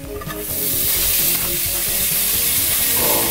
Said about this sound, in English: You gotta love that sizzle.